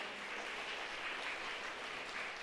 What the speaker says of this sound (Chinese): 来我们拍手欢迎